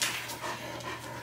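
A large guard dog that watches over flocks pants steadily and close by, a fast breathy rhythm continuing throughout with no talking.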